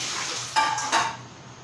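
Freshly washed cauliflower florets dropped into a cooking pan for pav bhaji, giving two brief rattling thuds against a low background sizzle with no voices.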